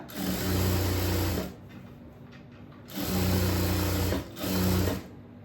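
A sewing machine stitches blouse lining in close, steady bursts: one long run, a pause, then two shorter runs, with no talking.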